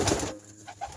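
Pigeons in a loft giving a brief, soft coo that rises at the end, quiet and close against faint background noise.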